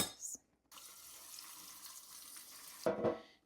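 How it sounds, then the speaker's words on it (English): Tap water runs into a kitchen sink for rinsing beef, a steady splashing hiss lasting a few seconds and bracketed by brief clinks and handling noises, fairly quiet and close. "Now we're back over here at the sink because we need to rinse the beef."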